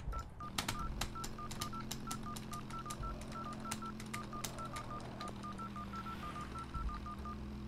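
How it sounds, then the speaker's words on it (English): A phone in a cyberpunk city-cruising video game gives off a string of quiet electronic beeps: short keypad tones and a repeating pulsed signal tone, sounding faintly over a low, steady musical backdrop. "Give me that sweet dial tone, Vance."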